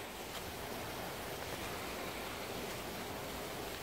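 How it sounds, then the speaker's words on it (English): Pumps send water flowing into a large fish pond, a steady, broad rushing wash like a small waterfall, even and continuous throughout with no voices over it. "That's flowing water, guys."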